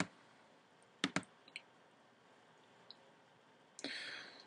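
A computer mouse clicks the Start button. A couple of quick, crisp clicks sound in a quiet room, with a few softer clicks after them and a short rustle at the close.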